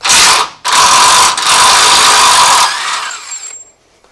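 An impact wrench loosening rear bumper bolts on an off-road vehicle: loud, close whining bursts, a brief run, a short pause, then a long sustained whir that tapers and stops.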